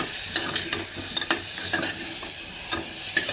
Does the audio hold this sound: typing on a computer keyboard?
no